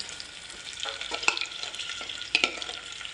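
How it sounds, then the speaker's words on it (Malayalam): Sliced onions fry in a hot pan for an onion curry, giving a steady close sizzle with a few sharp clinks and scrapes of stirring. "സവാള ഇട്ട് കൊടുക്കുന്നുണ്ട് കേട്ടോ"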